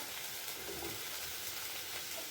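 Tomatoes sautéing in a pan for bread masala, giving a faint, steady sizzle with soft stirring noises, continuous and fairly quiet throughout with no talking.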